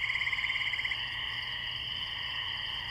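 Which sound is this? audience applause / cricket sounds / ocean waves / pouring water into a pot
cricket sounds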